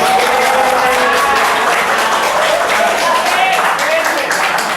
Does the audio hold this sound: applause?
yes